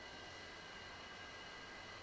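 A Su-35 jet engine idling in a flight simulator during a cold start, a steady broadband roar with a faint whine, unbroken and even throughout.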